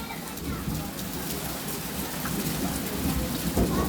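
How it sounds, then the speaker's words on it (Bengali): Steady rain falls after a long hot spell, a constant dense hiss with a low rumbling undertone that keeps an even level throughout. "অনেক দিন পরে এখানে বৃষ্টি নামতেছে"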